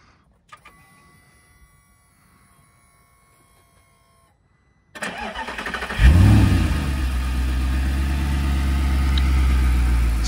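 Yellow Audi R8 with stock exhaust: faint clicks and electronic chimes, then the starter cranks and the engine fires with a loud bark before settling into a strong, sustained rev close by.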